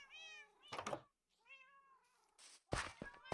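Cats in the Minecraft video game meow twice in clear, drawn-out cries, with sharp knocking thumps between and after them, fairly close and alone without talk.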